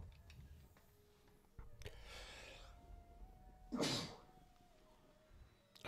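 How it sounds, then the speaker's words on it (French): One loud human sneeze near the mic, preceded by a short breathy intake, over a quiet room hum with faint clicks. "Vous avez le droit à mon éternuement"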